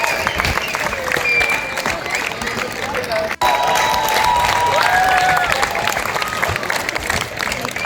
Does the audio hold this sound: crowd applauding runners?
yes